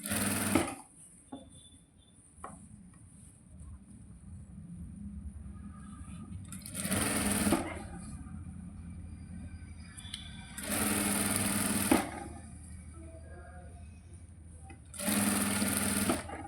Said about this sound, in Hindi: इस तरीके से सिलाई डालते जाना।